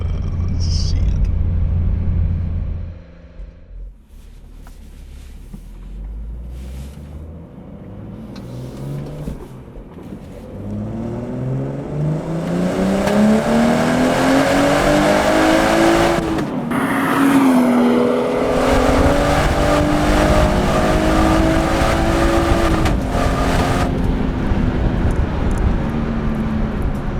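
A BMW 340i xDrive F30 3-Series with the B58 engine accelerating hard. Its loud, close engine note climbs steadily, drops at gear changes and climbs again, over a constant road rumble.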